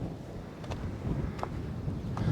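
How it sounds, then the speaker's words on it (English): Wind blows outdoors at Park Nazzjonali tal Inwadar in Malta as a steady low rumble of buffeting against the microphone, with a few faint soft knocks and no talking. "this wind is nice. It keeps you cool."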